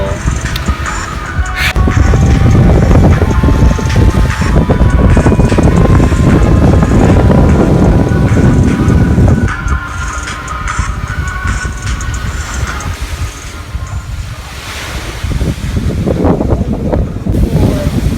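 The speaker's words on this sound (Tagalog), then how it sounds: "Narinig mo lang yung hampas ng alon. Saka yung hangin" Waves crash and roll against the shore at a beach resort in Calatagan, Batangas, while strong wind buffets the microphone, the surf surging loud, easing briefly, then building again.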